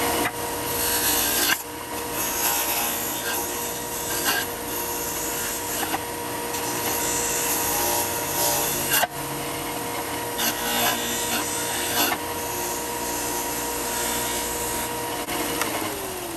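A Bauer 4x36-inch belt and 6-inch disc sander grinds a bevel cut at an angle, giving a loud continuous abrasive roar with brief dips where the workpiece shifts.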